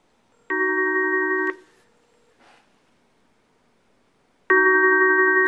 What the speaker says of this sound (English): I'm going to go ahead and dial 231 and then press the SIP button.